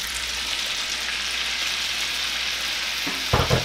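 Meat for a Southern beef pot pie sizzles loudly and evenly in a pot, a dense steady hiss, with a short clatter of stirring near the end.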